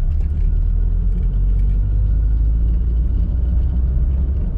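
A manual car pulls in second gear at about 2000 RPM, giving a deep, steady low-frequency engine rumble close by that runs without a break and with no talking.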